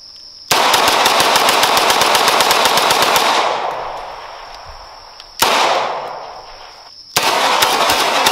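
Rapid bursts of gunfire from a pair of 1985 West German Sig P226 pistols fired together, loud and close in three long strings of fast overlapping shots, each trailing off into ringing echo.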